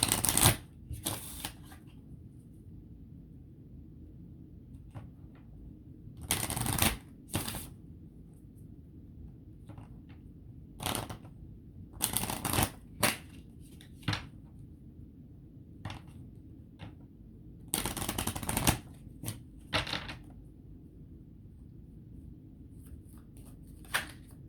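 Lenormand cards being shuffled by hand come in several short bursts of crisp riffling and flicking separated by quiet pauses, close up and with no talk.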